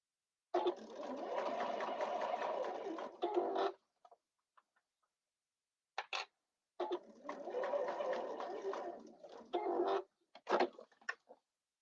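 A sewing machine stitches fabric in two sustained runs of rapid whirring separated by a pause, with a few short bursts and clicks in between, close and fairly quiet.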